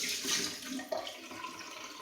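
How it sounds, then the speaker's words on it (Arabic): Water poured off the top of settled lahoh flatbread dough, a brief splashing trickle into a sink or container, close and moderately loud, with no speech. "راح نسكب الماء اللي في السطح ونستخدم العجين اللي مترسب تحت."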